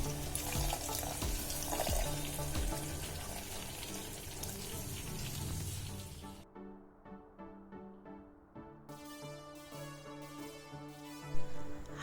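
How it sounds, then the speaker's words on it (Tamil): About 600 ml of water poured into a pot for biryani: a steady rushing pour that runs for several seconds, then drops to a quieter trickling, splashing wash. "அதே மாதிரி 600 ml வாட்டர் வந்து நான் வந்து ஆட் பண்ணியிருக்கிறேன்"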